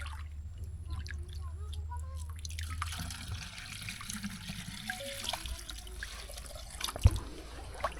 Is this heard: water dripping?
yes